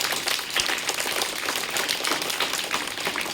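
Enthusiastic applause from a school audience welcoming a fifth-class student to the stage at a results and prize ceremony: dense, steady clapping that holds for a few seconds, with no talk over it.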